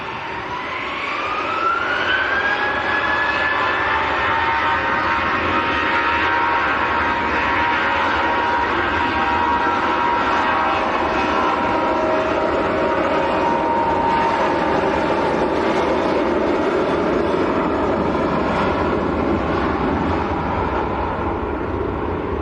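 An EasyJet airliner spools up for a full-length takeoff at Manchester Airport. A rising turbine whine swells into a loud, sustained engine roar that stays strong throughout, with no voices.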